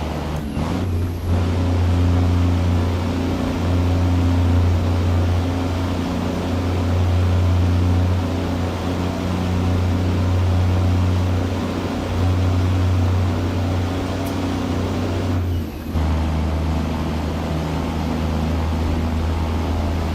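A big truck engine in a trucking video game drones at a steady low rumble, loud and close, with two brief dips as if shifting gears, no voices.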